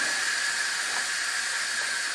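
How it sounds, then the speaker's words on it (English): Steam hisses out of an Instant Pot during pressure release, a loud, continuous, unbroken jet that holds steady throughout with no voices. "we just wait until we don't hear any more steam coming out of the Instant Pot"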